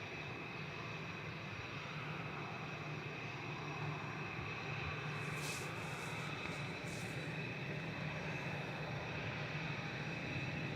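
A Helvetic airliner taxiing in at Manchester Airport gives a faint, distant, continuous engine drone with a steady hum underneath. No one speaks.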